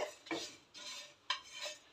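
Dried red chillies and coriander seeds being roasted in a pan on a gas stove, with a few quick scraping, rattling stirs against the pan, close and fairly quiet with no voices.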